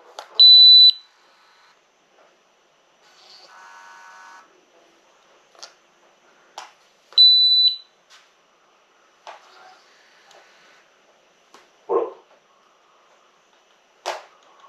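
Kaedear motorized smartphone holder in a car: sparse high electronic beeps and a brief soft mechanical whir as the arms release, quiet against near silence.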